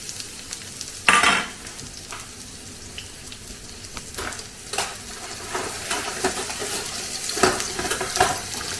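Steady sizzling of onions frying in a hot pan for fried rice, broken by a few sharp clatters and scrapes as the food is stirred; no voices.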